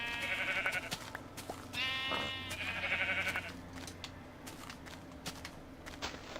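Sheep in the video game Minecraft on Xbox 360 bleat repeatedly, several nasal wavering calls overlapping in quick succession, fairly close and clear over quiet game ambience.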